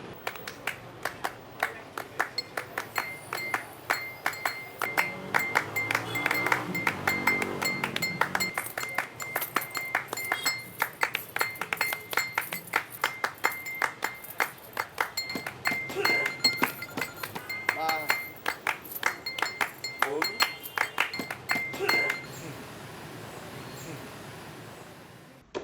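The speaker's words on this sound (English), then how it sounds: "I think we can have a key and a glass with a spoon." A key and a spoon strike a glass in a long run of bright ringing clinks, quick and irregular, with a little clapping mixed in before things ease into a quieter tail.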